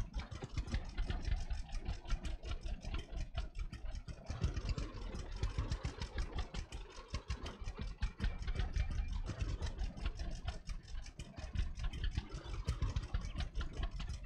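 A tractor engine idles in the Lumberjack's Dynasty video game, a steady continuous rumble with a busy, rattling texture that holds at a moderate level throughout, with no talking.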